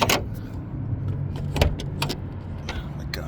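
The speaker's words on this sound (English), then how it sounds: "let's open up the hood so I can show you guys a little bit there" The hood of a 2002 Mercedes-Benz S55 AMG opens in a short series of clicks, clunks and metallic latch sounds, close up, over a low steady hum.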